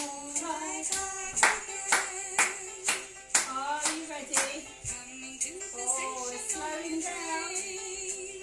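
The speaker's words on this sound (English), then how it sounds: "Now clap your hands." Young children clap their hands along to a train-ride song at home, sounding as a run of sharp, fairly regular claps over a sung melody.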